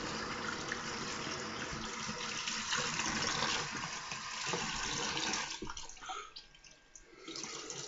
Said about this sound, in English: It's cold water rinse.